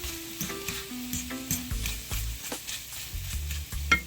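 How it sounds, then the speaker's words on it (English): Scrambled eggs sizzle in a frying pan on a stovetop for a chicken fried rice dish, a crackling fry broken up by scraping stirs and clinks of a utensil, with no talking. "My 3 eggs is finished scrambling."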